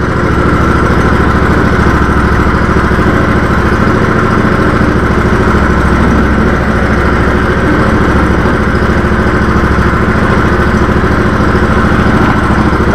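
A Legacy XL compact tractor's engine drones steadily and loudly at a constant pitch as the tractor drives into its front loader, with no talk.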